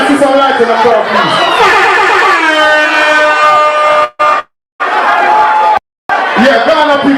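A live crowd at an event in Ghana: chatter and shouting with a sustained horn-like tone in the middle, broken by two abrupt silences near the end.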